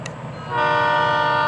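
A Florida East Coast Railway train horn sounds steadily and loudly after a brief clank, the rumble of rail cars beneath it as the train rolls nearby.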